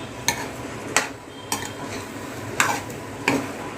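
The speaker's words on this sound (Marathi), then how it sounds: "यामध्ये सगळा भात घालून घेऊया, मिक्स करून घेऊया." Cooked rice is stirred in a kadhai for veg fried rice, the spatula scraping and knocking against the metal pan in five distinct, evenly spaced strokes over a faint sizzle, with no talking.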